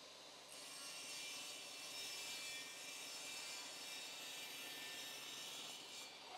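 Saw cutting the extra tongue off a laminate floorboard during a beginner flooring install, a steady continuous rasping stroke close by that runs without pause for several seconds, with no voices.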